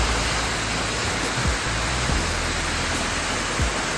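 Narchyang waterfall in Myagdi, running in winter, pours as a loud, unbroken roar of rushing water heard up close, with no voices.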